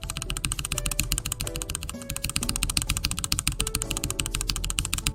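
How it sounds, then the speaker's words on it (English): Ctrl-Z keys on a computer keyboard are hammered over and over in fast, steady clicking that runs the whole time. The taps are close and loud, and a faint musical tone plays quietly underneath with no talk. "So I spent the next 5 minutes spamming my Ctrl-Z keys."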